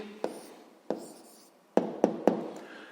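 A pen taps and scratches across paper as an answer is written by hand for a sixth-grade maths exercise, a few sharp strokes in a quiet room.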